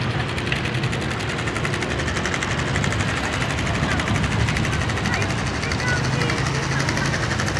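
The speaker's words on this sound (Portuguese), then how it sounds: "Rapaz, e faz mesmo barulho de moto" A plastic cap clipped against a child's bicycle spokes makes a continuous rattling buzz like a small motorbike engine. The sound is loud and close, with a steady rapid flutter throughout.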